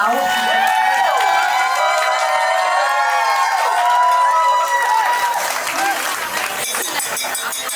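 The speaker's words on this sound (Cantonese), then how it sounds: "大家俾啲掌聲啦，再一次俾啲掌聲祝福佢哋新郎哥新娘子經過愛情長跑。" Guests at a Chinese-style wedding banquet applaud the bride and groom, a dense wash of clapping with scattered cheers and shouts over an emcee talking through a microphone.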